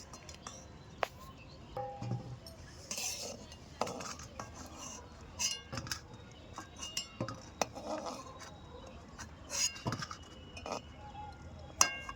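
Metal utensils clink and scrape against a plate and pot as boiled chicken and potatoes are served in a home kitchen, with scattered light knocks throughout and faint voices in the background.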